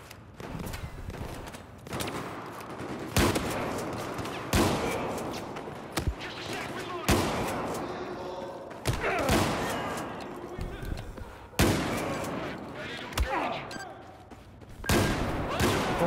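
Shotgun blasts in Battlefield 4, a series of loud, separate booms spread a second or two apart, sitting under occasional game noise and a voice talking.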